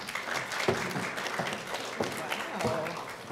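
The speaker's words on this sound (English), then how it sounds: "I like getting an applause." Audience applause at a University of San Diego School of Business MBA event: a steady, dense wash of clapping filling the room at moderate loudness, with a voice speaking over it.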